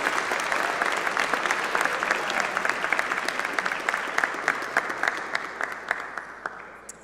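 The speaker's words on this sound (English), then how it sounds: "Let's give another round of applause for our chemical engineering majors." Steady applause from a ceremony audience for chemical engineering majors at an Order of the Engineer event, dense at first and then thinning into scattered individual claps as it fades.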